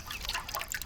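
Thick honey candy batter pours and drips steadily from a utensil into hot oil, a soft continuous trickle with small liquid plops, close by and fairly quiet.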